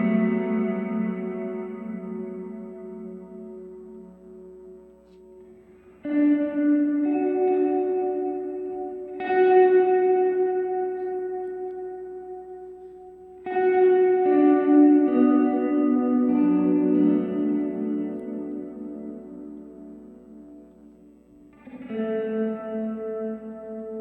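Electric guitar played through a Line 6 Helix with reverb, sustained chords struck several times at intervals, each ringing out and decaying into a lingering wet tail.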